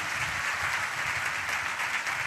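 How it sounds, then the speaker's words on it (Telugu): A gathering at a live prayer meeting claps loudly and steadily, a dense, even wash of applause throughout with no one speaking over it. "చేతులు పైకెత్తి గట్టిగా చప్పట్లు కొట్టాడు"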